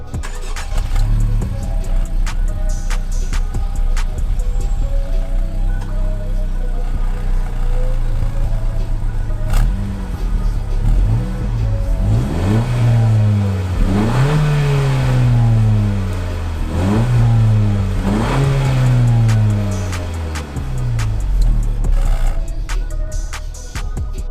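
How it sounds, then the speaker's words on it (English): A Honda Civic Sport Touring hatchback engine idles, then revs repeatedly in rising and falling bursts through its stock exhaust, loud and close, with no talking. "That's a stock exhaust right there."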